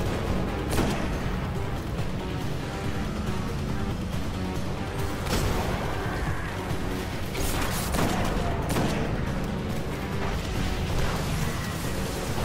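Continuous gunfire and explosions fill a Destiny shooter battle, dense volleys of shots with heavy blasts and crashes sustained at close range throughout.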